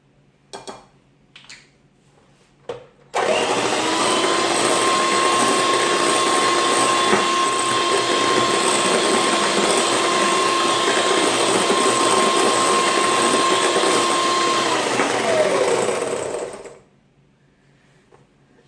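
An electric beater whips egg whites with sugar toward stiff peaks for pancakes, a loud, steady motor whine that starts abruptly, holds for about thirteen seconds and then winds down, preceded by a few brief clicks.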